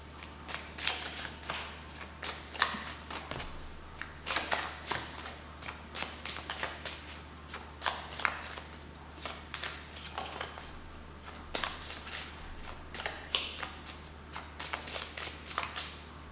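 Tarot cards being shuffled in quick, papery riffles and snaps, a steady run of sharp flutters close to the microphone with no voices.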